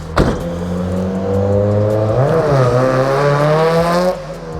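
Nissan Silvia S15 engine revving as the car pulls away, a loud close drone that climbs through the gears with a shift partway through, then the revs drop near the end.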